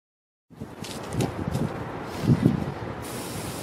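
Water sprayed as simulated rainfall onto a French drain's gravel beside a foundation wall, a steady hissing spray starting abruptly after a brief silence, with a few louder splashing surges partway through.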